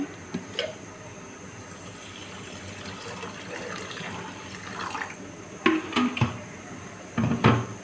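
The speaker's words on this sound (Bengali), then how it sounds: "আর এখানে দিয়ে দেব পরিমাণ মতন পানি।" Water is poured onto pulao rice in a bowl, a quiet, steady trickle that ends in a few short, louder splashes.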